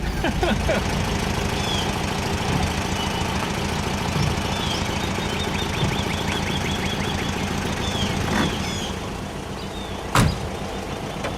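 Air-cooled flat-four 1600 engine of a 1971 VW Type 3 Squareback running steadily throughout, with a brief sharp clunk near the end.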